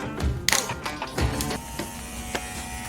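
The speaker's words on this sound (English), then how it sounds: "I'm going to make my first guideline with the clipper blade all the way closed" A ConairMan MisterClass hair clipper with its blade fully closed buzzes against hair in short, close bursts with small taps and pauses between strokes, and no one speaks.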